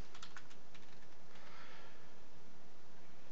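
Quick clusters of keystrokes on a computer keyboard, soft and close, with brief pauses between bursts of typing in a quiet room.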